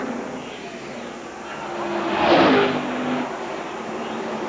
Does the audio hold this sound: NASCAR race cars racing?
yes